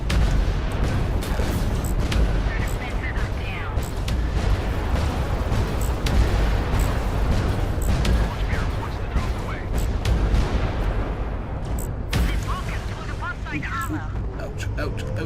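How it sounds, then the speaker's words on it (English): Sniper fire hits a ship in the space game Fractured Space, a long barrage of repeated booming impacts and crackles under a dense battle mix, with a voice talking over it. "I think we've got a sniper hitting us."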